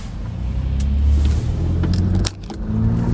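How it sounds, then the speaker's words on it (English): Steady road traffic on a busy truck route beside a school, with cars and trucks rumbling past close by in a continuous low roar, an engine note rising and falling as vehicles go by. "Oh, there's a lot of traffic, people."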